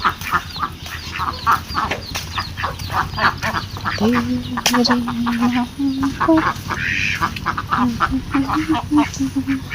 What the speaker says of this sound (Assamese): আমাৰ ঘৰৰ হাঁহ